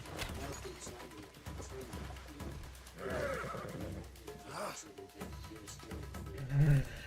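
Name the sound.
horse neighing in a video game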